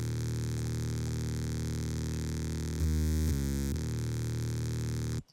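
Analog bass synth in Reason with sidechain pumping switched off, a steady sustained low tone held loud for about five seconds, with a brief pitch shift near the middle before cutting out abruptly.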